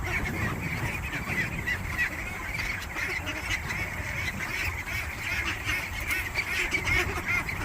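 Duck on a ranch making repeated honking quacks against a busy outdoor background, the calls fairly close and continuous throughout.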